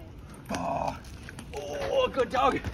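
A dog growls and whimpers in short bursts close by at a lake, mixed with excited human voices talking over it.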